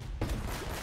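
A brief burst of gunfire from an Uncharted: Drake's Fortune firefight, a rough continuous rattle of shots at moderate distance, with no voices over it.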